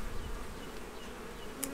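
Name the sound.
honeybees buzzing at a hive being inspected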